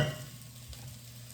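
Scallops sizzling in a hot frying pan, a brief steady hiss that starts with a louder burst and settles into a soft, even crackle close by, no voices.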